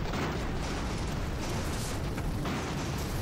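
Rocket explosions in the airship battle game Airships: Conquer the Skies, a dense, continuous rumble of blasts and pops filling the whole stretch at steady loudness, with no talk.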